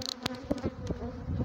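Aggressive Africanized honeybees buzz close around a beekeeper opening a hive, a dense droning hum with individual bees darting past the ear, loud and steady throughout.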